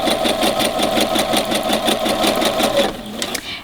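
A sewing machine fitted with a universal foot stitches an invisible zipper into the back of a skirt, a fast, steady, close mechanical chatter that runs continuously and then stops near the end.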